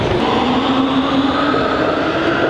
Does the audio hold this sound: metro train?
yes